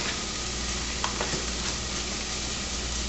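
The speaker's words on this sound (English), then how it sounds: "add that right in with my onions so it can start getting a little bit of brown on it too" Minced beef sizzles steadily in a pan with onions, a dense, constant frying hiss close by with a few faint scraping stirs, and no voices.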